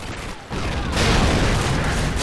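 Gunfire in a survival mission of a video game: a dense, continuous roar of shots and blasts that rises after a brief dip and stays loud, with no clear talking.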